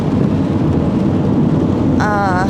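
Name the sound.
rain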